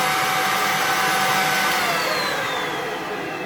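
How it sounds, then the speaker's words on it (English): Cecotec Conga Duostick Easy Handed cordless vacuum cleaner, an 800-watt model, running steadily with a loud, continuous motor whine and airflow hiss, close by and alone without speech. "this is a fantastic vacuum cleaner to use"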